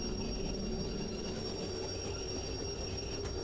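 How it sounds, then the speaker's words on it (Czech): A train rolling backwards in the Derail Valley railway simulator game, a continuous low rumble of wheels on track with a steady metallic whine on top and no talking. "Vlak mi začal couvat."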